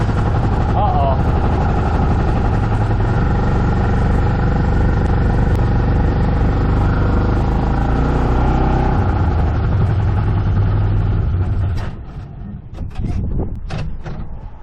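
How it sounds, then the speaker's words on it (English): A $3,000 UTV engine revving hard at full throttle, a loud sustained droning roar that holds steady for most of the stretch before dropping away into clunks and rattles near the end. "We're moving. We're full throttle."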